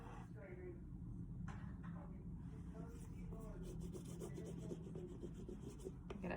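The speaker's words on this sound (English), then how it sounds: "Get it pressed on there with your little scraping tool." A small scraping tool rubs a sublimation transfer onto a box in steady, soft back-and-forth strokes, close and quiet, with a person talking over it.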